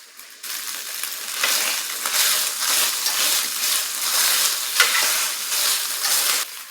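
Ground beef and brown sugar sizzle and crackle steadily in a hot pan for a Korean beef bowl, a close, continuous frying hiss with occasional stirring scrapes and no talking.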